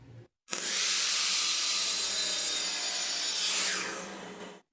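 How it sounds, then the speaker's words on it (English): A miter saw slices through wooden pieces for antique table legs, a loud sustained whining cut of about four seconds that starts abruptly and tapers off at the end, close and alone. "That's the cut we'll make on the miter saw."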